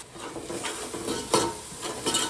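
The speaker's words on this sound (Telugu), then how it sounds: "ఇలా ఆనియన్ పేస్ట్ వేసుకున్న తర్వాత కలిపేసుకొని ఒక 2-3 నిమిషాలు మంచిగా ఫ్రై అవ్వనిద్దాం" Onion paste stirred and frying in hot oil in a pan, a steady soft sizzle with scraping spoon strokes and a few louder stirs against the pot.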